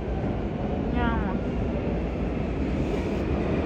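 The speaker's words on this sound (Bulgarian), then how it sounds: "Ето идва метрото" Barcelona metro train pulling into an underground station, a steady low rumble and roar filling the platform, with a brief voice partway through.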